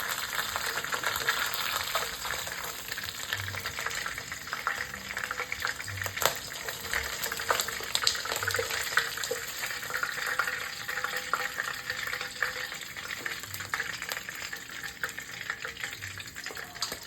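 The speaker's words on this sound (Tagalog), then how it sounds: "Ipiprito pala natin tong mga ulo ng salmon para mabawasan yung lansa niya." Salmon heads fry in oil in a pan with a steady crackling sizzle, broken by occasional soft knocks and utensil sounds, and no one speaks.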